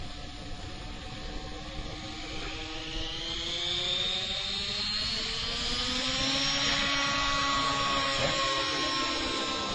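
A remote-control helicopter flies an autorotation landing with a flare before setdown, its rotor and engine whine sweeping in pitch as it passes, moderately loud and continuous with no talk.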